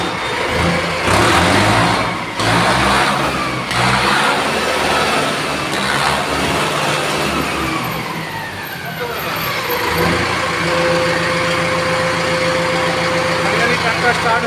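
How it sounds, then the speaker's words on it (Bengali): A Mahindra tractor at a showroom starts up with a loud cranking burst, then settles into a steady, close diesel idle with a rising whine near the end; people talk over it. "এবার ট্রাক্টর স্টার্ট হবে।"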